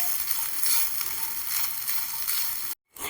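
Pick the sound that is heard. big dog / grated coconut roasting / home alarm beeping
grated coconut roasting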